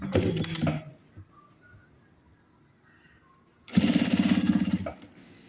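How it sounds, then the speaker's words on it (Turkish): Sewing machine running a straight stitch along bias binding, loud bursts of rapid mechanical stitching at the start and again near the end, with a quiet pause between. "sadece düz bir dikiş çekiyoruz buraya"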